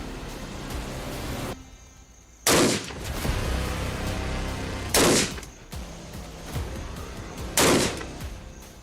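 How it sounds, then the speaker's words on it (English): Rifle shots fired at a target on a shooting range: three loud, sharp cracks spaced a few seconds apart over a steady hissing background, with no talking. "Rifle is live, range is live, aim at the target, own time."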